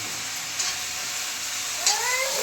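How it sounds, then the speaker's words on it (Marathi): Ginger garlic paste and tomatoes frying in a pan give a steady, moderate sizzle and hiss throughout. A couple of faint clinks sound over it, and a brief whistling tone is heard near the end. "त्यामुळे अद्रक लसूणची पेस्ट टाकली जेणेकरून ती चांगलं फ्राय होईल."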